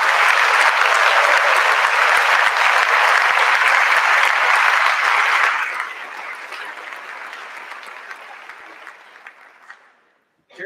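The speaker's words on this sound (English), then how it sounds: "Let's give Joni a round of applause" Loud, dense applause from a staff gathering at an end-of-year celebration honoring a retiring colleague, sustained for about five seconds, then thinning and fading away to silence.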